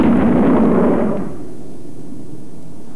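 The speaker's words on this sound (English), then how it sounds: "it creates two shock waves, one from the front and one from the back, which roll across a swathe of countryside miles wide, to be heard by everybody underneath as a sort of double bang" A Concorde sonic boom, the double bang from front and rear shock waves rolling across countryside, comes as a loud, broad rumbling blast that decays over about a second into quiet.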